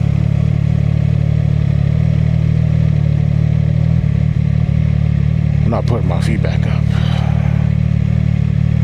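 A CFMOTO 675SS motorcycle engine drones steadily and loudly close by throughout while being ridden under constant throttle, with a rider speaking over it and a brief clatter of wind or movement near the end.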